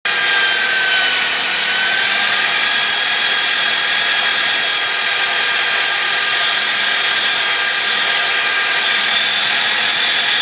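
A power drill spinning a cotton cleaning wheel against the head of an old axe makes a loud, continuous, hissing whir with a gritty rubbing texture, steady and close throughout with no talking.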